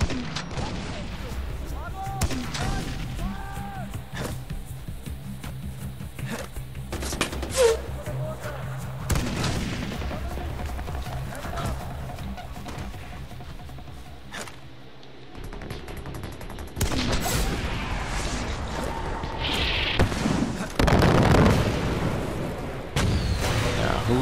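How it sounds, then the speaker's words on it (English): Gunfire in Far Cry 4 on a player-made crazy outpost map, bursts of shots and heavy booming blasts scattered through a long noisy stretch, with a voice talking over it at times. "Who's still shooting that?"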